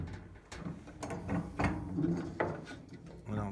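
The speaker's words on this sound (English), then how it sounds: "The next thing I could do is put it in the vise again." A workpiece is clamped into a vise in a workshop, with a series of faint clicks, ratcheting turns and knocks of metal on wood spread irregularly over a few seconds, fairly quiet.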